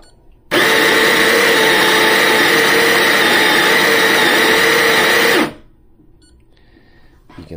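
An espresso burr grinder set at a fine setting of about 4 grinds Metric coffee beans with a loud, steady whir that starts abruptly, holds for about five seconds and cuts off, leaving quiet room tone.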